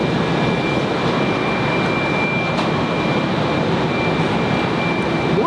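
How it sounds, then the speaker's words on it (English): Jetstar Airbus A321neo jet on final approach to runway 19 left at Brisbane Airport, a steady broad engine roar that holds loud and even throughout without any speech. "So this is Jetstar A321neo now on final on runway 19 left."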